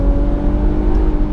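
An Infiniti Q50 Red Sport 400 sedan engine comes alive under acceleration from highway speed, a loud, steady rising drone heard from inside the car.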